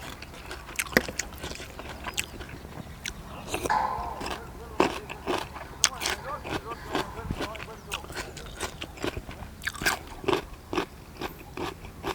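Close, crisp crunching as a spicy Thai salad with garlic is chewed in irregular bursts, with occasional mouth sounds and quiet background noise.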